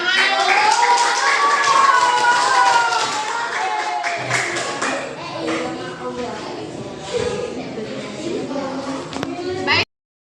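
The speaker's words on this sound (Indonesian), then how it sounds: "Tepuk tangan." Classroom of children clapping together in applause during a lesson, a dense burst of claps fading into scattered taps and shuffling, with kids' voices chattering throughout.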